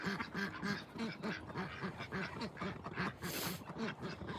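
Ducks quacking in a rapid, rhythmic run of repeated quacks, close and clear, continuing steadily without pause.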